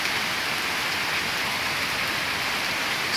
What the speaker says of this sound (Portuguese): Tá chovendo muito forte mesmo.